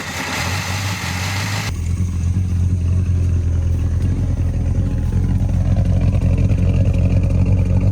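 A long-dormant Dodge Dart V8 with a four-speed gearbox runs after its revival. The engine rumbles loudly and close in a steady deep idle, which swells slightly after a short quieter opening and then holds a rough, throbbing beat with no talk.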